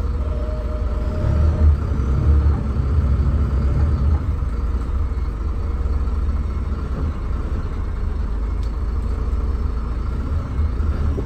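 A Hino AK 240 Euro 4 economy bus engine runs with a heavy, steady low rumble, loud and close, holding a constant drone throughout without clear rises in pitch.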